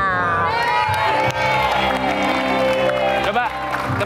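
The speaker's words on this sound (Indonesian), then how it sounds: "Minta tepuk tangannya" A studio crowd on an Indonesian dating game show cheers, whoops and claps in a loud, continuous burst, with music playing underneath the shouting.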